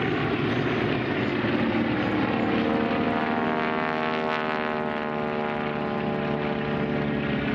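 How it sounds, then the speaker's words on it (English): Steady droning roar of several propeller airplanes flying overhead in formation at the Culpeper Airfest 2012 air show, loud and continuous with a slowly shifting engine hum. "Airplane strung out on the right wing of the lead plane."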